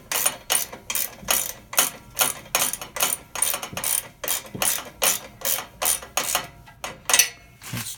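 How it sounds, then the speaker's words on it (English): Close, brisk ratcheting wrench clicking in quick repeated bursts while loosening or tightening muffler bolts on an ND Miata, a steady rhythm of ratchet strokes with no talk. "Get my little wrench here."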